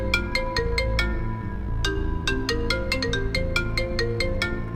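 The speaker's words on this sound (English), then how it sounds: "John answers his phone." Phone ringtone playing a repeating electronic melody of bright, bell-like notes in quick rhythmic phrases, clear and steady with no voices.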